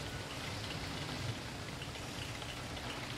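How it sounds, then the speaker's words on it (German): Steady, dense rainfall in the video game Jurassic World Evolution, an even, continuous wash of falling drops with no breaks. "es ist nur normaler Regen"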